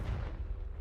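Confringo blasting spell in Hogwarts Legacy, a short, deep rumbling explosion with a heavy low boom, heard alone and fairly loud.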